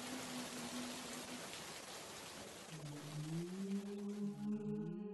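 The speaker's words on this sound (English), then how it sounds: "The sound of the water wakes you up." River water splashes and rushes steadily for the whole stretch, a dense, even wash of sound. Drawn-out tonal, whale-like calls drift through it and grow more layered toward the end.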